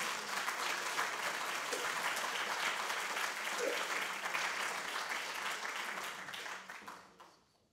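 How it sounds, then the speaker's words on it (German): Symposium audience at an interreligious dialogue event breaks into sustained applause, a dense, even wash of clapping in a hall that fades out over the last second or two. "Da erlaube ich jetzt den Applaus"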